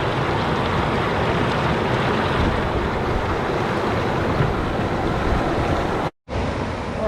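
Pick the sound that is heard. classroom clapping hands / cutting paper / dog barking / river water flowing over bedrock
river water flowing over bedrock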